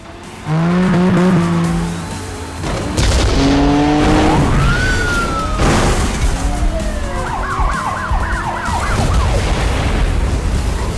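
Arcade racing game Cruis'n Blast plays its car sounds: engine notes rise and shift, tires squeal, and a siren-like wail repeats, all loud and busy with no talking.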